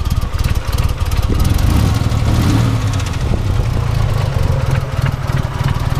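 Chevy S10 Blazer 4.3 engine running rough at idle with a faulty, irregular fuel pressure, a loud close uneven rumble that stumbles and sputters throughout.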